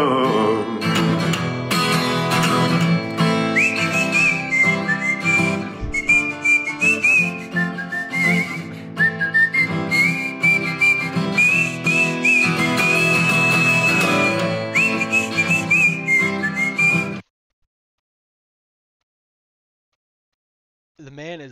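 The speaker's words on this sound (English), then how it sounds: "Even his whistling is gorgeous." A person whistles a melodic tune over music for about seventeen seconds, bright and steady, before the sound cuts off to near silence.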